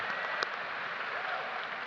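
An audience at the Eaton High School 2022 graduation ceremony applauds, a steady hall-filling wash of clapping at moderate distance with one brief sharper clap near the start.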